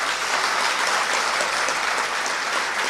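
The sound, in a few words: audience applause to welcome a guest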